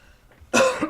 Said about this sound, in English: Coughing away. Coughing up a storm over here.